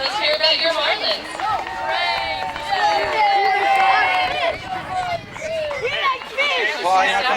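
A crowd at a youth baseball game cheers for the Marlins in the Scripps Majors World Series, a steady mix of shouts, whoops and chatter filling the whole span with a few brief dips.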